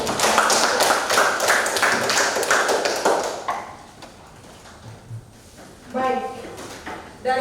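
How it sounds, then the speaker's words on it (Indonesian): A class of students applauds in a classroom, the clapping dense and loud for about three seconds before fading into quieter room noise and brief talk. "berikan aplaus untuk"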